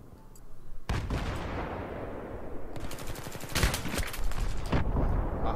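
Heavy gunfire in Battlefield 3, sustained volleys and booming shots stacking into a loud, dense barrage with sharp bursts near the end, no talking over it.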